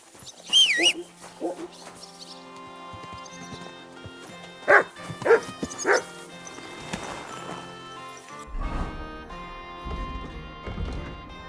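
Dog barks in Kingdom Come: Deliverance II, a few sharp yaps early on and a cluster of louder barks near the middle, set among horse hoof clops, birdsong and game music, with a voice speaking briefly.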